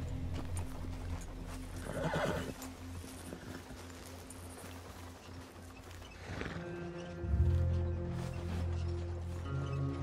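In Red Dead Redemption 2, a horse near a coach in Rhodes gives a loud, close whinny over steady clip-clopping hooves and outdoor ambience, then a second neigh and snorting follow.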